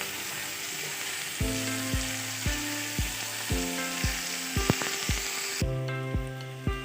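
Cauliflower pieces and potato chunks frying in a pan with onion, ginger and garlic, a steady close sizzle broken by repeated knocks of a spoon against the pan in a rough rhythm.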